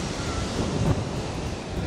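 Wind buffets the microphone over steady surf at Seaford beach, a low, constant rumble of breaking waves and gusts, fairly faint and unbroken.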